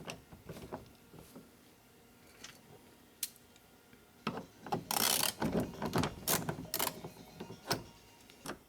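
Ratchet clicking as a bolt is undone on a Mercedes/Dodge Sprinter driver door panel, close up, starting in sparse clicks and then a denser burst of rapid ratcheting, with no talk.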